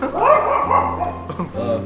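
A human voice imitates a dog's bark with a drawn-out woof-like yelp, close and loud, followed by a shorter second yip.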